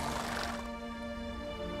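A horse in The Witcher 3 (Blood and Wine) gives a loud, close whinny that lasts under a second, then fades into a sustained tonal ambience.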